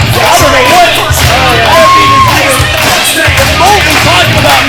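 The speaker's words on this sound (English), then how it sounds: "Listen to this crowd." A crowd at a wrestling show yells and whoops loudly, voices rising and falling in waves, with a commentator talking over the noise.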